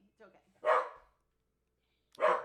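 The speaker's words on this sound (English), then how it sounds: "there's dogs that bark sometimes. They bark at car alarms, you see." A dog barks at car alarms near a mountainside home, two loud separate barks about a second and a half apart, with a low voice murmuring briefly before the first.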